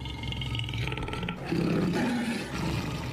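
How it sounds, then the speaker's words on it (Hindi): A tiger roars, giving a loud, deep, sustained roar that swells into a heavier, rumbling growl midway and rolls on without any speech. "तो कहीं बाघ के दहाड़ने की आवाज सुनाई दी"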